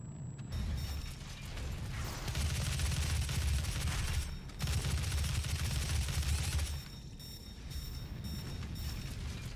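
Gunfire rattles in the video game Doom 2016 as dense bursts of rapid shots and mechanical clatter, broken by brief pauses, loud and continuous with no talk over it.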